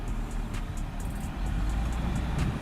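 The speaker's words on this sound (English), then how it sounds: "The driver throttles" A Land Rover Defender SUV engine revs as the driver throttles over off-road terrain, a steady low rumble holding close and loud throughout with no talk.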